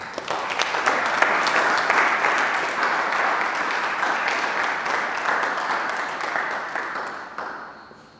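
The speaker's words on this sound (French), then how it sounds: "Est-ce qu'on peut acclamer le Seigneur?" A church congregation applauds to acclaim the Lord, sustained, fairly dense clapping that carries on evenly for several seconds before fading out at the end.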